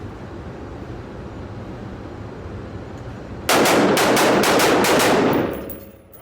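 Pistol fired fast and aggressively in succession during shooting-stance drills: a quick string of about eight loud, closely spaced shots over steady background noise, with no talking.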